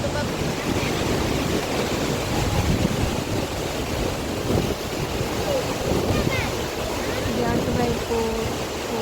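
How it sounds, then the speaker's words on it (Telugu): River water churns in waves at Prakasam Barrage, a steady, loud wash of rushing surf mixed with gusty wind buffeting the microphone, continuing without a break throughout. "అలలు చాలా బాగా కనిపిస్తున్నాయి చూడండి. సౌండ్ అయితే చాలా బాగుంది వినడానికి కూడా."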